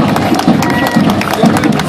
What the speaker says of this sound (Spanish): Fuerte ese aplauso para el Instituto Fermín Nodó